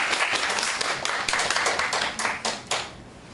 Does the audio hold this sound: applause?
yes